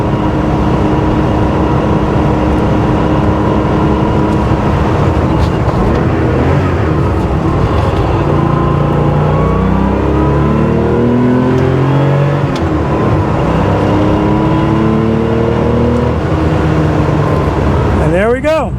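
A 1979 Porsche 911 SC flat-six engine, freshly overhauled, runs loud and close on a dyno, holding a steady drone and then sweeping up through rising revs before easing off near the end.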